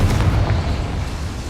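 A Confringo blasting spell goes off in Hogwarts Legacy, a single heavy, booming burst that rumbles close and loud before slowly fading.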